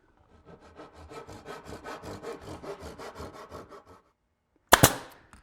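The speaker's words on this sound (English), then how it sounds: "I'm making a small notch at the top so that the bonnet can overlay the waist" A handsaw cuts a small notch into clamped wooden side pieces for a clock case waist, with about a dozen steady, even back-and-forth strokes, followed by a single sharp wooden knock.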